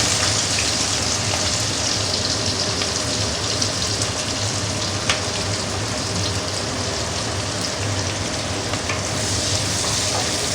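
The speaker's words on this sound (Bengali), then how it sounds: "পেঁয়াজটা একটু ভেজে নেব।" Chopped onions fry in a pan for a mutton curry, giving a loud, continuous sizzle and crackle that runs steadily from start to finish with no talking.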